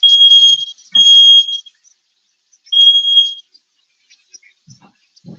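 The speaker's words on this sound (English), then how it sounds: "I got that alarm that any kind of smell that goes through there is gonna automatically ring" A kitchen smoke detector set off by cooking shrills in loud, piercing bursts, three long beeping pulses separated by short silences, followed by faint rustling.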